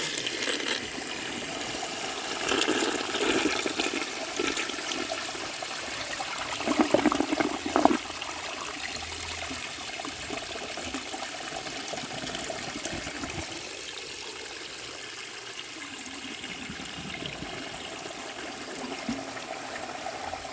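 A life-size clay toilet with a concealed siphon jet flushes from an overfilled tank, a rushing gush peaking early, then settling into steady trickling and refilling water.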